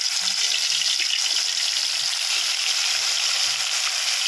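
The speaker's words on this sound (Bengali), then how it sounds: "দেখুন তেল গরম হলে তবেই মাছ ভাজা ভালো হবে, না হলে জড়িয়ে যাবে।" Fish fries in hot, smoking oil with a loud, steady broadband sizzle throughout and a few faint knocks of utensils underneath.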